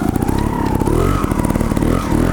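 A Gas Gas TXT 280 trials motorcycle engine revs loud and close, its pitch climbing and falling through repeated throttle blips over a steady rough idle.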